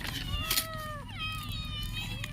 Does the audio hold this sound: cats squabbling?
yes